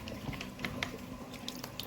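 Aquarium filter parts rinsed under plain running water, a steady close splash and trickle with a few brief drips and knocks over about two seconds, no voices.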